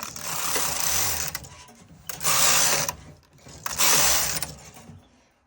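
A Brother KH260/KH270 knitting machine, its carriage swept back and forth in three long rasping, whirring passes with short pauses between, close and loud with mechanical clicking underneath.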